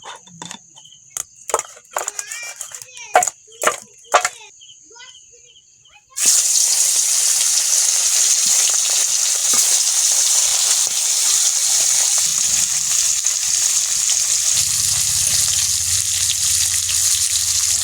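Tap water gushes steadily while fish are washed in a kitchen before cooking, a loud continuous rush that begins suddenly after a few seconds of clatter and handling noises.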